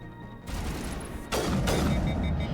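Rapid gunfire in the video game Mass Effect 1, heard as a dense, loud volley of shots that swells into booming blasts over a steady mechanical background.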